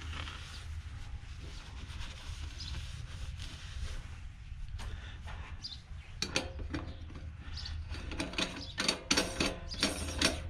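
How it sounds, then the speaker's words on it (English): A nut is tightened by hand onto the drain of a custom steam-pan sink, making a run of rough ratcheting, grinding and clicking noises. The sound is close, gets busier and sharper near the end, and no one speaks. "Tighten this nut on."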